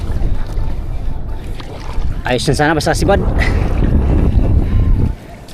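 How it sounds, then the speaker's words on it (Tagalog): Strong wind buffets a fishing boat at sea, a steady loud rush of broadband noise throughout, with someone speaking briefly over it partway through. "Mahangin ngayon, mahangin."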